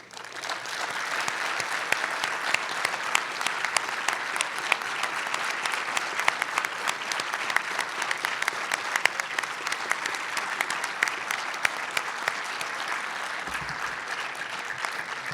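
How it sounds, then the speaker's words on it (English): An audience at a police chief's retirement celebration applauds the family, a long, even roar of many hands clapping, sustained and fairly close throughout. "I'd like for all of you to stand so we could applaud you as well"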